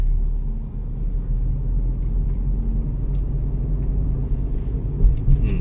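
Steady low rumble of a car engine pulling in third gear during a beginner driving lesson, heard from inside the cabin as a constant drone with no talk.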